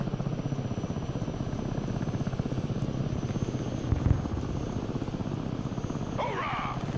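An Osprey tilt-rotor aircraft in flight in the war game Broken Arrow, a continuous rhythmic rotor thrum chopping away at moderate loudness, with a brief bump midway and a short chirping effect near the end.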